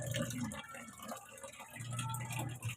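A weak trickle of water runs from a tap, a faint, thin, uneven flow with soft drips, heard close and alone at low level.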